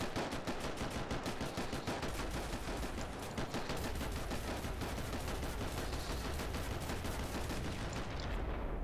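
Rapid bursts of SMG fire in the grim survival video game DetoNation, loud and sustained, rattling nearly continuously with no talk.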